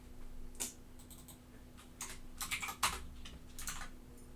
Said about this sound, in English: Oops. Can't type today.